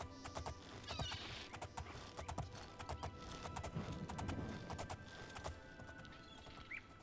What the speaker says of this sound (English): How do I get the horse in there?